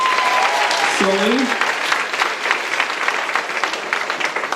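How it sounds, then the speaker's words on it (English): A school improv-night audience claps in a sustained, even round of applause with dense crowd noise, and a brief spoken name cuts in near the start. "give him a round of applause."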